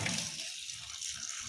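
Leafy greens being rinsed under running water, a steady splashing tap stream with wet swishing from handling the leaves, close and continuous.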